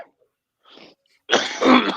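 A person coughs after hitting a torch, first a faint short breathy sound, then a loud harsh cough bursting out close by.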